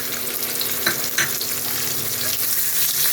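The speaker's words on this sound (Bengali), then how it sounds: "পেঁয়াজটা একটু লাল লাল করে ভেজে নেব" Onions frying in a pan for a puffed-rice curry sizzle loudly, a dense crackling hiss with a couple of stirring scrapes.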